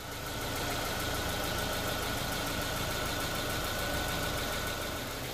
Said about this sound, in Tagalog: I-start po natin yung ating sasakyan at papatakbuhin ng 10 minutes.